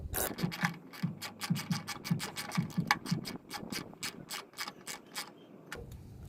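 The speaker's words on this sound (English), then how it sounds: "I need to use a 13 millimeter socket" A ratchet with a 13 mm socket tightening a tailgate assist bolt on a Ram pickup, a rapid series of close clicking strokes in a steady rhythm, alone without speech.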